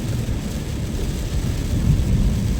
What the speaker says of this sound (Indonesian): kita dikasih hujan guys.